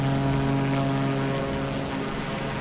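A small propeller plane flying low near the Eiffel Tower in Microsoft Flight Simulator 2020, its engine a loud, steady droning buzz with a strong tonal hum, heard alone.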